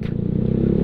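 A Yamaha Mio Sporty motorcycle rumbles in traffic with a steady low engine drone that builds slightly, heard up close over a brief moment.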